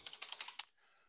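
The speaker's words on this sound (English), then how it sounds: "So I'm typing here" Quick typing on a computer keyboard while writing in Notepad, about eight crisp close keystrokes in a brief uneven burst, then quiet.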